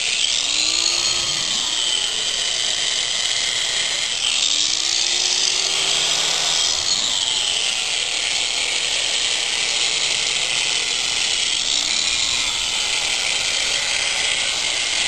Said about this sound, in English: When I grind out my joints, I want to make sure I've got nice clean edges on the brick, and I'm not grinding into the brick itself